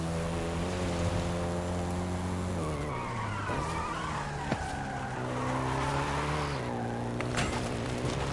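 A Volkswagen Golf GTI hot hatch driven hard in Forza Horizon 5, its engine note holding steady then rising and falling through gear changes, with tire squeal and skidding throughout, loud and close with no talk.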